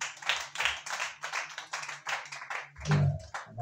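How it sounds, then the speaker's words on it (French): A church congregation at a French-language worship service claps in quick, uneven bursts at moderate distance, with a brief low voice near the end. "Acclamez Jésus pour maman Esther"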